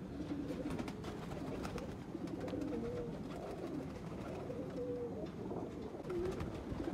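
Rampuri and Ferozpuri breeder pigeons coo softly at close range, with repeated low, rolling coos overlapping one another against a faint steady background and no talking.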